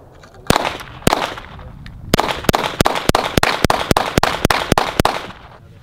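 Sharp gunshots from an FN 502 .22 LR ambidextrous pistol, a few spaced shots and then a quick string of about a dozen evenly timed cracks, loud and close with no talking.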